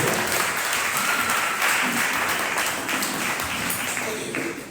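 A church congregation at a worship service claps together in sustained, dense applause that stays loud and fills the room before slowly easing off.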